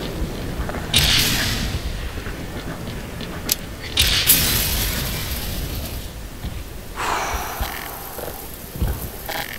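Tank cannon fire and explosions in the video game Black Mesa: several loud booming bursts with crackling debris, one near the start, another around four seconds and a softer one near seven, over a busy rumbling game backdrop.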